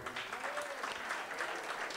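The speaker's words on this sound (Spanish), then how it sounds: "un fuerte aplauso para Gabrielito, por favor." Applause from an audience at a jazz concert and album launch for new compositions, steady dense clapping filling the short stretch without a break.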